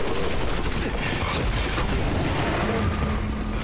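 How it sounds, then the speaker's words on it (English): Rapid, dense gunfire and explosive blasts from grenade launchers and other weapons in Resident Evil 6, loud and continuous throughout with little pause, a faint low tone emerging near the end. "These grenade launchers make short work of those guys, though"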